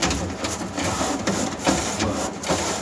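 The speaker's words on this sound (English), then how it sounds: "Absolutely love having an ultrasonic cleaner." An ultrasonic cleaner runs with a steady mechanical hum and faint buzzing pulses, fairly close and unbroken for the whole stretch, with no talk over it.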